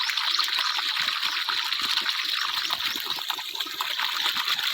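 A farm borewell spills a steady stream of water that splashes and gurgles without a break, heard up close with slight irregular burbles throughout.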